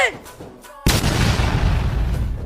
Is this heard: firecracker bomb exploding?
yes